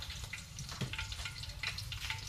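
Oil sizzles steadily in a pan while fish tuna curry cooks, a close, even frying crackle with faint stirring clinks and no talk.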